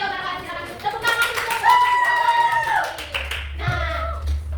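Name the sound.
classroom clapping hands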